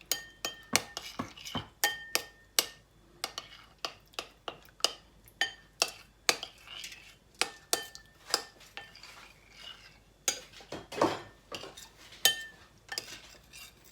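A spoon scrapes and clinks against a bowl while tomato paste is stirred with warm water, with a steady run of sharp, close metallic taps and knocks at an irregular rhythm.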